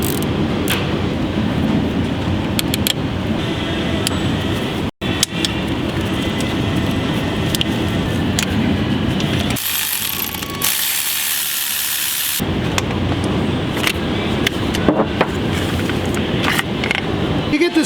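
The starter on a Toyota Sienna spins freely without engaging the flywheel, a continuous loud mechanical whir and rattle broken by a sudden cutoff and a quieter stretch before the spinning resumes. Speech appears to run alongside it.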